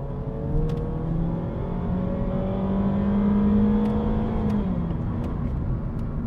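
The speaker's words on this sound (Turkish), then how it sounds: "Şimdi hızlanalım." Interior engine drone of a 2022 Honda Civic accelerating on a test drive, rising steadily in pitch as it gains speed, with faint clicks along the way.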